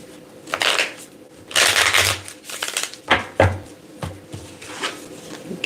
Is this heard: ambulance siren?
no